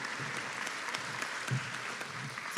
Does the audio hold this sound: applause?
yes